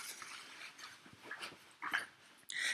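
A dog whimpers and pants softly in a quiet room, with brief faint whines and breaths scattered over a few seconds and no talking.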